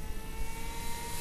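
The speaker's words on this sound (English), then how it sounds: "Oh, look at that. That's a Mustang." A Parkzone P-51 Mustang RC model plane flying past with a steady, buzzing motor drone that stays fairly loud and even throughout the short stretch.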